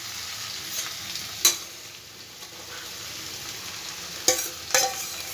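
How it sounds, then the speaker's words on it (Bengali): Boiled banana flower stirred into spices in a pan over a low gas flame, giving a soft, steady sizzle with a few sharp scraping strokes of the spoon. "এবার মশলার সাথে খুব ভালো করে আমি মিশিয়ে নেব আগে মোচাটাকে।"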